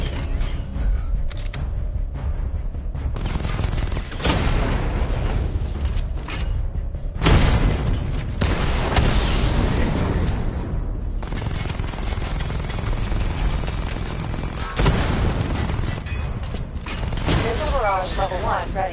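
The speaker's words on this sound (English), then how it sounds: "Destroy targets to charge up weapon energy and activate missile barrage." Missile barrage explosions in Batman Arkham Knight, loud booming blasts and rumbling bursts in several waves with crackling debris, with a voice talking over parts of it.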